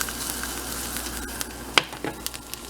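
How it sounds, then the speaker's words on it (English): Onions sizzle and fry in a hot pan as they heat up, a steady close crackle with a few sharper pops and spits toward the end. "I'm now heating up the onions first"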